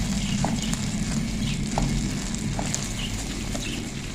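Dahi ande, an egg and yogurt curry, fries uncovered in a pan with a dense, steady sizzle and crackle, plus a few faint clicks scattered throughout.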